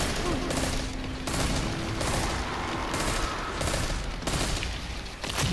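Steady rapid gunfire from a Destiny 2 firefight, dense repeated bursts of shots running nearly continuously at loud level, with a faint voice underneath.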